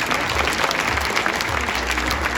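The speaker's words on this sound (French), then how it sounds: "faire un tonnerre d'applaudissements à ces chefs d'entreprise. Et bien, on les applaudit." A crowd at a transport industry awards evening applauds company heads, a thick, loud roar of clapping with a low rumble underneath, steady from start to finish.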